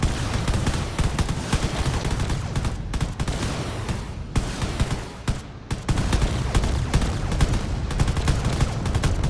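Battleship in the space game Drone Wars firing every weapon at once, a dense, continuous roar of rapid gunfire and blasts that barely lets up, loud and close throughout with only brief dips.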